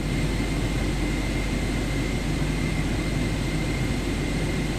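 Aircraft engine idling after start in Microsoft Flight Simulator 2024, a constant broadband roar with a steady hum that holds at an even level throughout, with no voices over it.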